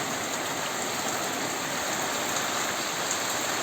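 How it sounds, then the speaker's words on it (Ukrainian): Heavy rain pours down over a vegetable garden in a steady, dense downpour, loud and unbroken throughout, with no voices. "А це вже схоже на обіцяну зливу."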